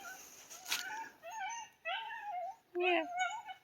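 Several dogs, apparently puppies, give a run of high, wavering whimpers and whines in quick separate bursts, fairly close and moderately loud.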